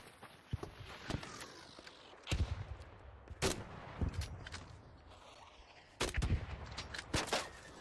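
Gunshots from the video game ARC Raiders, sharp reports arriving in scattered single shots and short bursts against a dull background bed, some loud and close, others thinner and farther off.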